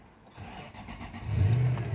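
A Toyota Sequoia engine cranks and catches, rising from a soft whir into a louder, low rumbling idle close by, with no talk.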